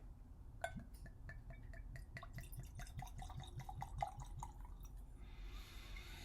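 Liquid glugs out of a freshly uncorked bottle into a glass in a quick, faint run of rhythmic gurgles that fade out near the end, with no talking.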